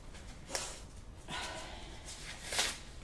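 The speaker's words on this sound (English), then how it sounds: "I'm going to blow my nose a minute" Two or three short, breathy blasts of nose blowing, close by, with quiet rustling and a faint rushing background between them.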